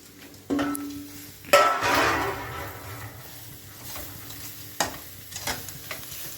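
Fried okra tipped into a hot pan with besan, a sharp clatter and burst of sizzling followed by scraping stirs with a spoon, the frying hiss fading to a low crackle between strokes; no voices.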